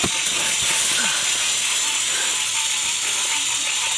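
A fog machine sprays fog on a film set, giving a steady broad hiss with a faint rattling mechanical texture, continuous throughout at a fairly close distance.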